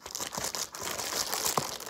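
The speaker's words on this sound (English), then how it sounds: "All right, let's open this one now." Crinkling and tearing of a mail package being opened, short crisp rustles and crackles bursting close up, with no talking.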